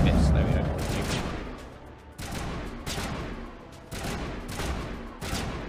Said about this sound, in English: Guys, stop firing.